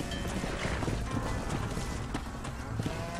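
Horse hooves in the Red Dead Redemption video game, a loud rhythmic clip-clop of galloping under dense game noise, with a faint voice in the mix.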